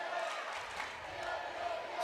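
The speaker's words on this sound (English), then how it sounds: "Starting to hear this crowd now." Gym crowd at a 4A North Regional girls' basketball tournament game, a steady wash of cheering and crowd noise with scattered whistles or squeaks throughout.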